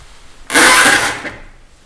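An old door in a family house swings open with one loud, close, scraping creak lasting under a second, which then fades into quiet room tone.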